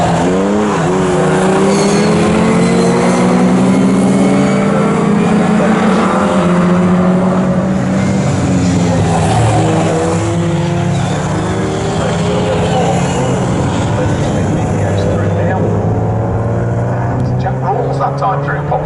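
A Lotus race car in an Equipe Pre 63 and Pre 50 historic race at Snetterton: a loud, close engine roar rising and falling through gear changes, with other cars passing and a commentator talking throughout.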